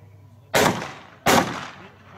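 Two sharp, loud cracks from an FX Boss .30 caliber PCP air rifle, spaced under a second apart, each with a brief decaying tail, close to the listener and with no talk.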